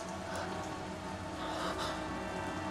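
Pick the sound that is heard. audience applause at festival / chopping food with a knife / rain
rain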